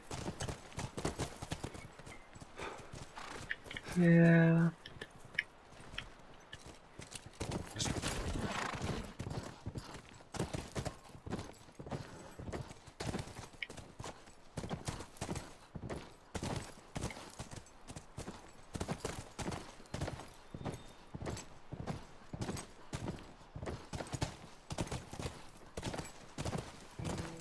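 Horse hooves clip-clop steadily in The Last of Us video game, a rhythmic close trot continuing throughout, with a brief horse whinny early on and occasional short speech.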